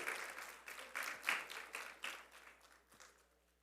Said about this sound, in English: give the business development team at CLICO Credit Union a big round of applause